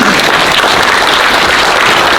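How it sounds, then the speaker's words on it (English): A crowd at the Delta Champions Awards at Grand Island Vineyards in Walnut Grove, California gives the Henley family a standing ovation, with loud, dense, continuous clapping from many hands throughout. "I would ask for a round of applause, a standing ovation for the Henley family, please"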